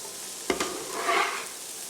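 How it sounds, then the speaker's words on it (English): Chopped onions tossed into a hot pan for beef stew, landing with a brief burst of sizzling and stirring clatter, then a steady, moderate frying hiss. "we are just going to throw in the onions"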